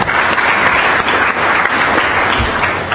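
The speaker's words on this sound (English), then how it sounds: "A round of applause to Hisham for the excellent work this afternoon." Loud, dense applause from a conference audience at a peering forum, a steady wash of many hands clapping for about three seconds with no talk over it.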